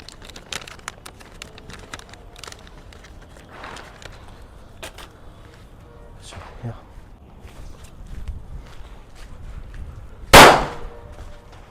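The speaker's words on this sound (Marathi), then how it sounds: "आता नेक्स्ट फटाका आपण ट्राय करूया हे पिप हुरे" A Pip Hooray paper-shot Diwali firecracker goes off with one sharp, loud bang near the end, after scattered rustling, handling clicks and footsteps nearby.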